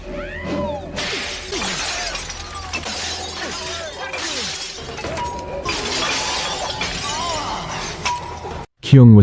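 Glass bottles shattering in a street fight, with dense repeated crashes and tinkling shards spread across the clip, loud and close, mixed with shouting voices and a final heavy thud.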